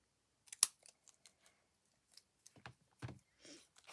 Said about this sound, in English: I'll cut, and again I'm just using a large pair of scissors